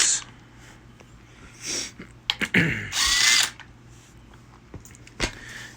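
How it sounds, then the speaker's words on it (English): A power drill removing the three 10 mm bolts of the oil filter cover on a 2006 Suzuki DR200SE motorcycle, in several short whirring bursts with one longer spin, loud and close, separated by quiet pauses and small clinks. "The next step is going to be to remove this oil filter cover here. So it's just three 10 millimeter bolts."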